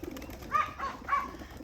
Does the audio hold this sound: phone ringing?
no